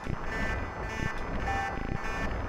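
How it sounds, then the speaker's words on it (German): A submarine alarm in Final Fantasy VII sounds as a loud, regularly pulsing buzzer, repeating steadily with no voices over it. "Warnung, Alarm"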